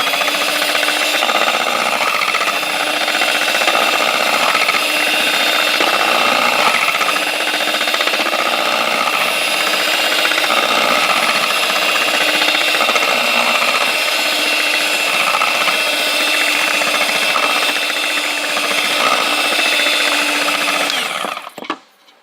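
An electric mixer whirs loudly and steadily as it blends a cooking preparation flavored with orange blossom aroma, running without a break before cutting off abruptly at the end.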